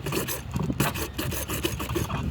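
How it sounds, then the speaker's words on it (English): A hacksaw with a worn blade cuts through plastic irrigation pipe for a container garden fill pipe, giving a steady, close rasping scrape with rhythmic strokes throughout. "I need a new blade on my hacksaw."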